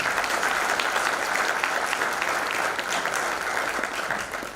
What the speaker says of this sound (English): Let's clap for everyone in the room.